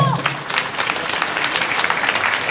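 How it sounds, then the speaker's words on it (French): Audience applause at a New Year concert in Hayange, honoring the music school and the Philharmonie La Lorraine, a steady wash of clapping from a hall crowd with a voice briefly audible at the start. "donc on peut les applaudir vraiment"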